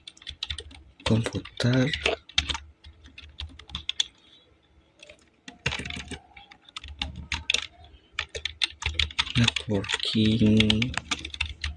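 Bursts of clicking keystrokes on a computer keyboard, quick irregular runs with short pauses, close and clear, mixed with someone speaking Indonesian between and over the typing.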